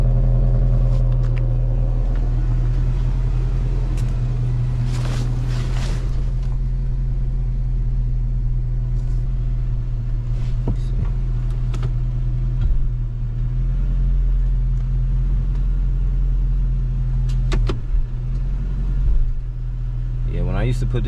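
A 2006 Dodge Charger engine with a misfiring problem runs steadily after a crankshaft sensor replacement, a low continuous rumble close by with occasional clicks, while people talk over it.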